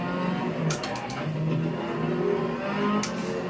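A car engine in a racing video game revs and drops, holding a sustained mid-pitched note that swells in short pulses over a fictional San Francisco mod track, with faint clicks and whooshes on top and no talk.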